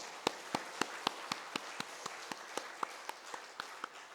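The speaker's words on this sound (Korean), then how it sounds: "우리 하나님 앞에 손뼉으로 찬양합시다." Church congregation clapping hands in praise during a worship service, about fifteen crisp evenly spaced claps in steady rhythm, fairly faint and distant in a roomy hall, with no talking.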